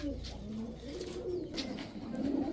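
Pakistani teddy racer pigeons coo softly and continuously in a low, rolling murmur, close by, with faint background noise and no clear speech.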